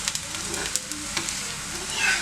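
Adai batter with ghee sizzling on a hot pan, a steady crackling fry with small irregular pops, close and moderately loud with no talking.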